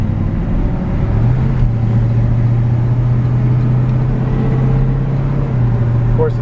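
A 1945 Ford half-ton pickup's V8 engine drones steadily from inside the cab, a loud low rumble with a constant road hum as it cruises along.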